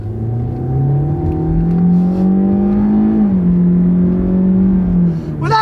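A cheap high-mileage car with an intelligent CVT accelerates steadily through simulated stepped shifts, engine drone rising in pitch, dropping at a fake shift near three seconds, then climbing again, loud and close throughout.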